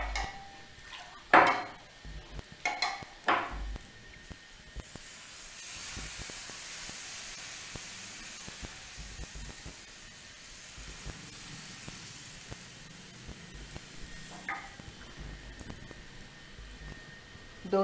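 Ghavan batter sizzles on a hot pan, a soft steady hiss like light rain lasting several seconds, with a few sharp clinks of utensils against the pan at the start.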